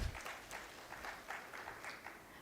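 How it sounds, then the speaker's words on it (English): Polite applause from an event audience at a memento presentation, soft, fairly distant clapping that carries on steadily for a couple of seconds after a low thump at the start. "A big round of applause to him."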